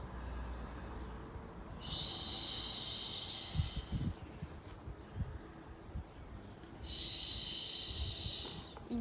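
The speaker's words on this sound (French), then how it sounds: "on va faire le son de la colère. C'est ch, c'est H." Two forceful 'ch' exhales in a children's qi gong exercise voicing the sound of anger, each a loud breathy hiss lasting about two seconds, separated by a quiet pause with faint room noise.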